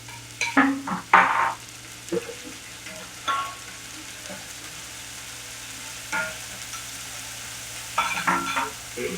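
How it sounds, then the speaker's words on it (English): Onion frying in cooking oil in a pan, with short bursts of stirring and sizzling at the start and near the end over a quiet, steady background hiss. "Now I'm going to put the onion. Then fry it. I'm going to fry with it with cooking oil."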